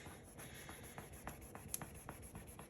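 Someone rubs clear sticker paper down onto a page, giving faint scratchy strokes in a loose rhythm, soft and close, with a high electronic whine underneath.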